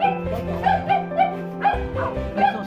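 Several rescued dogs bark and whimper close by in a quick, uneven run of yips and whines, the sounds coming in short bursts one after another.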